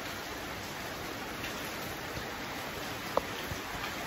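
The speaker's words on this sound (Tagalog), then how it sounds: "Tapos ngayon nag-uulan na naman." Steady rain falls in a continuous broadband hiss, evenly loud throughout with no talk, broken only by a single faint click late on.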